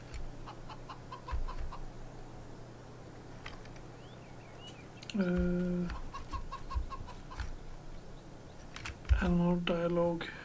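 Chickens cluck in Farming Simulator 22, two loud bursts of layered clucking near five and nine seconds over a steady low farm hum, with softer scattered clucks and faint clicks between them.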